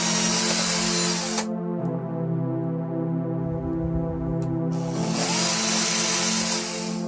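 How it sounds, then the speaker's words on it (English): A power drill bores holes for an airsoft claymore build, running at a steady high whine, easing to a lower pitch in the middle as the bit bites, then revving back up, loud and close with no talk. "Drilling the holes."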